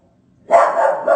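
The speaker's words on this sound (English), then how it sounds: "There's dogs being walked across the street." A single dog bark or yip from dogs being walked across the street, short and moderately close, after a moment of quiet.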